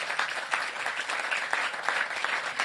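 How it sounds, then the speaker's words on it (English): An audience at an affordable-housing preservation event applauds steadily, a dense, even patter of many hands that continues without a break. "Give Mayor Slavin a big round of applause"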